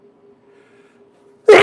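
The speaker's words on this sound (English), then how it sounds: "I keep sneezing." A single loud sneeze bursts out near the end after a quiet stretch with a faint hum, close to the microphone.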